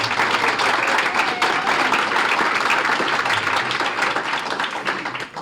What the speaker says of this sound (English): this is an opportunity for applause